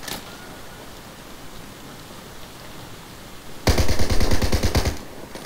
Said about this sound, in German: Wo wird noch geschossen?